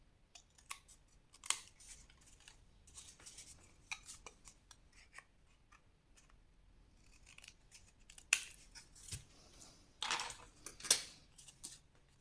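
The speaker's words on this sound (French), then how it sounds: "Vous allez couper ici au niveau de la pointe." Scissors snip through paper for a pop-up scrapbook album, a series of crisp, close cuts in irregular bursts with quiet pauses between, with no voices.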